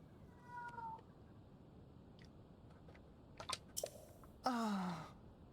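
A cat meows a few times at moderate distance, with short faint calls followed by a louder, longer wail near the end against a quiet background.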